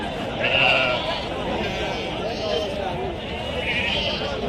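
Goats bleat a few times at a weekly sheep and goat market, wavering cries rising over steady background noise and nearby chatter from people.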